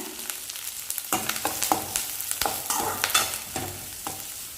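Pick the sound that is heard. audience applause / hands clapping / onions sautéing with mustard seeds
onions sautéing with mustard seeds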